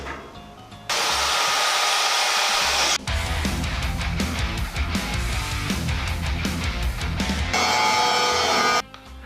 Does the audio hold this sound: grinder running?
yes